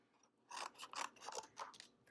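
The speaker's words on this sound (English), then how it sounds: "The first thing I'm going to do is cut out some shapes." Scissors cut out paper shapes, several quiet close snips and rustling strokes in a loose rhythm, with no talking.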